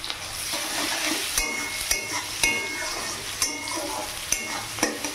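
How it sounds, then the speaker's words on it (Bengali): Onions sizzle in hot oil in a pan for a Bengali fish curry, with a spatula scraping and clinking against the pan every half second or so in an uneven stirring rhythm, close and alone. "পেঁয়াজটাকে ভেজে নিচ্ছি।"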